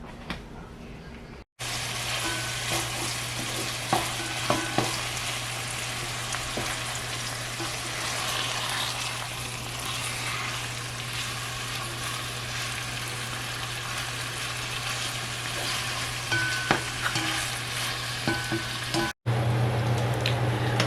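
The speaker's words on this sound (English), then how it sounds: "the ground beef is finished browning" About 1.5 pounds of ground beef browning in a frying pan, a steady close sizzle that runs unbroken for the whole stretch, with occasional faint clicks and a low hum.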